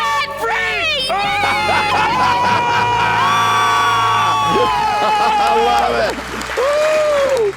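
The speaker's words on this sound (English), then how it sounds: "And the whole cheering section goes crazy." A live audience of fans cheers, whoops and applauds loudly and continuously after a couple's debt-free scream, with a voice shouting over the roaring crowd noise throughout.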